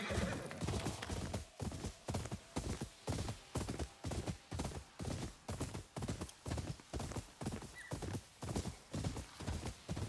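Steady, evenly spaced hoofbeats from a horse moving at a brisk pace in the Ghost of Yotei video game, a close, continuous clip-clop rhythm with nobody talking.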